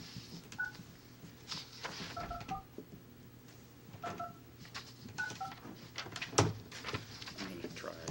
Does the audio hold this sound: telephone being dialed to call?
yes